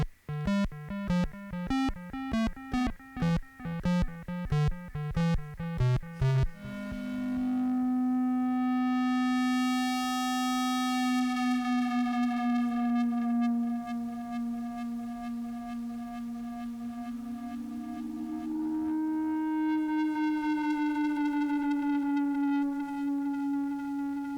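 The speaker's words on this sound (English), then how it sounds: "Maybe we could tap out a little melody and hear it running through the Monotron delay." Korg Monotron synth tapping out a short staccato melody of pulsing notes, then long gliding pitch sweeps echoing and repeating through a Monotron analog delay, electronic tones alone with no voices.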